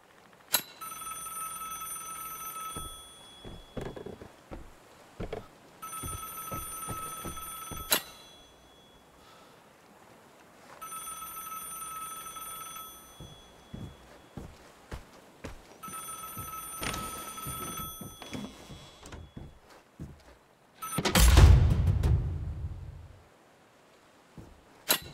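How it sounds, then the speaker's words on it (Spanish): An old bell telephone rings in repeated bursts inside a shelter in the survival game Vigor, with clicks and footsteps between rings and a heavy thud near the end. "Teléfono."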